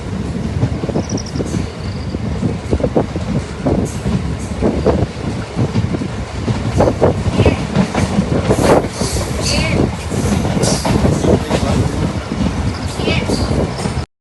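Interior of a moving passenger train at night, wheels clattering over rail joints in a steady rolling rumble with rhythmic clickety-clack, loud and continuous, with faint voices in the carriage.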